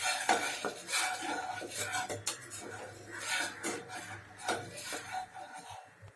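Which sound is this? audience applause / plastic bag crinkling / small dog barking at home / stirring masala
stirring masala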